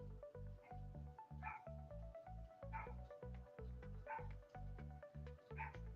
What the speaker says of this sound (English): I don't know if you can hear her barking,